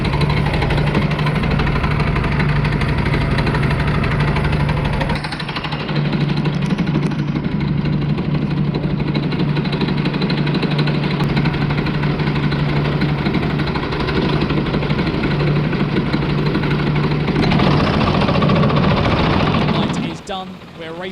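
Racing kart engines during a heat at an invite-only kart race of champions: a loud, steady high-revving buzz of several engines that swells and falls as karts pass, continuous throughout and nearly drowning out a commentator.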